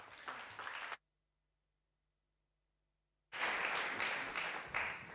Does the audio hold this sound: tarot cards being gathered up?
no